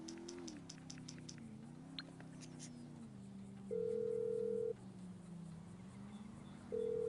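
An outgoing phone call rings on a character's in-game phone in GTA 5 Online, two long, steady ringback tones a few seconds apart, preceded by soft menu clicks over a low background hum.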